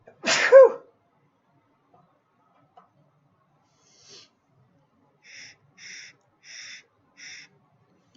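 A single sharp human sneeze close to the microphone in an otherwise quiet room, followed later by faint, brief muffled sounds.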